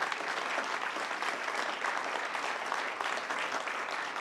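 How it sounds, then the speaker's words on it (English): Sustained, dense applause from a seated summit audience, loud and even throughout, with no talking. "A big round of applause for our Planet Forward correspondents."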